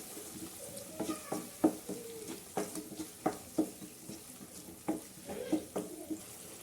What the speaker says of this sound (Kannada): ಇದು ಚೆನ್ನಾಗಿ ಮಿಕ್ಸ್ ಮಾಡ್ಕೊಳ್ಳೋಣ.